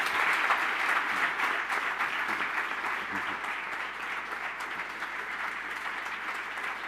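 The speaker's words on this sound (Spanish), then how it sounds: "a Trevor Dodson y al Marqués de Marón, que les despidieran con un grandísimo aplauso, que es el que se merecen" An audience at an interview event with historians applauding in a sustained, dense wash of clapping that holds steady for about seven seconds, fading slightly toward the end.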